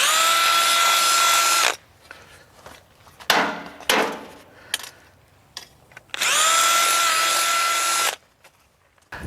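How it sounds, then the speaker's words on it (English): Two loud bursts of a power drill whirring as it cleans out a bolt hole in an IBC tote frame, separated by a stretch of clattering and scraping handling noises. "you might have to take your drill and clean that hole up for the bolt to go through"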